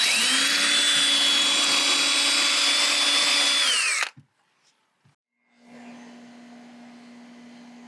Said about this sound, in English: we got our hole drilled out